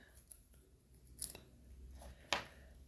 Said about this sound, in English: These are embroidery scissors.